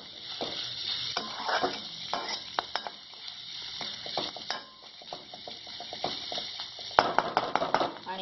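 Bitter gourd sabji roasting on a high flame, a steady sizzle with frequent rapid scraping and clattering of a spatula stirring in the pan, busier near the end.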